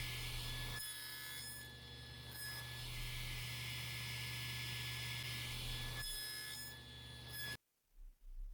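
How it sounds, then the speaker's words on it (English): A table saw fitted with a flat-tooth blade cuts a single pass into wood to form box-joint slots, a loud, sustained whine and rasping cut that rises and falls over several seconds before the motor cuts off abruptly. "all I'm doing is taking one pass with the table saw blade"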